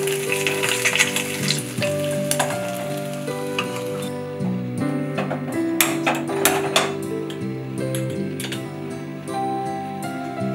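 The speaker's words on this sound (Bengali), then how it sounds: "এবার আমি এটা দুই দিক ভালো করে লাল করে ভেজে নেব।" Hilsa fish head pieces fry in hot oil until browned on both sides, giving a steady, loud sizzle throughout with scattered sharper crackles and spits from the pan.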